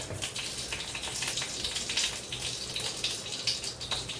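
A bay leaf, a piece of cinnamon and two cardamom pods go into hot oil, giving a dense, crackling sizzle with fine popping that continues unbroken at close range.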